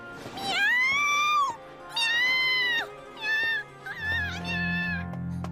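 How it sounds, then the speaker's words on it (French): A cat meows four times in a row, loud and close, each call drawn out and rising, with a low hum appearing under the last ones. "Miaou!"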